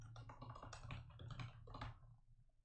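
Rapid clicking of keys on a computer keyboard, played up as keyboard ASMR, runs as close, crisp, uneven bursts for about two seconds before trailing off. A low hum sits underneath.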